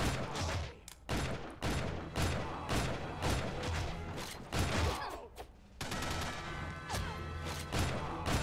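Weapon fire in the game Shank 2 cracks out in rapid, loud repeated shots with sharp impacts, firing almost continuously in bursts with brief gaps, no talking.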